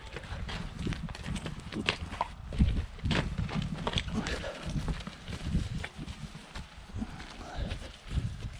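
Irregular hoof clopping and shuffling of heavy draft horses and young stallions moving on hard ground nearby in Ukraine, with people talking over the steps.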